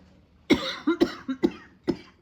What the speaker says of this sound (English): So if you hear me coughing during the videos